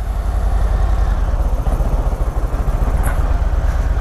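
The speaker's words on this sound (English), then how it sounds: "And we are in first gear" A Harley-Davidson Road Glide ST motorcycle pulls away in first gear, its engine a steady, loud low rumble with a throbbing pulse that holds close for the whole stretch.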